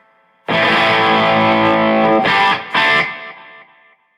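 A loud, distorted electric guitar through a Marshall MG100DFX amp rings out with sustained chords, followed by quick repeated delay echoes that trail off and fade.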